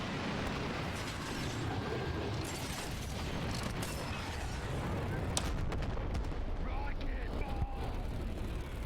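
Artillery fire in a video game battle against automaton enemies: a dense, continuous roar of blasts and rumbling impacts, loud and sustained with scattered sharper cracks throughout.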